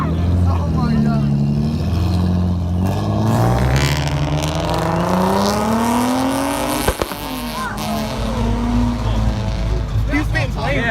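A stock Nissan 300ZX at a big night car meet revs loudly and repeatedly, pitch climbing and falling, with a sharp pop partway through as it shoots flames, while people nearby talk and shout.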